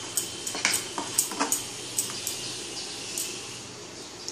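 Dosa batter with added sugar is stirred in a bowl, giving light, close scraping and clinking taps in an uneven rhythm that thin out toward the end.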